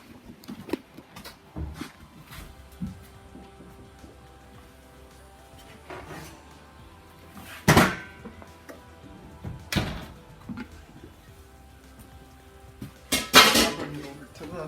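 A baking dish of homemade Texas hash hotdish is pulled from the oven: scattered metallic clanks and clatters of dish and rack, mostly quiet between, with a sharper cluster of clinks near the end.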